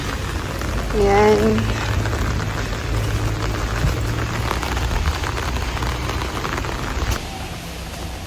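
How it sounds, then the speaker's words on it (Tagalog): Steady rain patters outdoors as a constant broadband hiss, with a brief spoken word near the start and a soft hum underneath. "It's raining."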